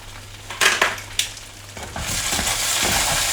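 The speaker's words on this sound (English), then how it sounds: "Listen to that sizzle, darlings at home." Food hits a hot pan with a few clattering knocks, then a loud, steady sizzle of frying rises and fills the rest, close by.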